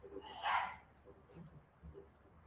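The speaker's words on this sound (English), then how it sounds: "I think that dog back there is going hoarse because he's been barking for so long." A dog barks hoarsely in the background with one raspy, breathy bark followed by a couple of fainter yips, quiet and some distance off.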